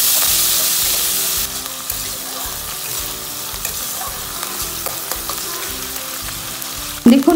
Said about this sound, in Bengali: পেঁয়াজ বাটা দিয়ে ভালো করে পেঁয়াজটাকে লাল লাল করে ভেজে